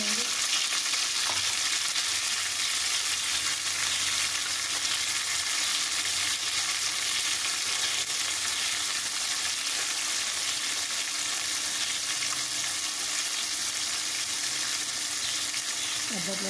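Eggplant pieces sizzle and fry steadily in a pan with golden onions, a dense continuous hiss with occasional stirring, close and fairly loud throughout.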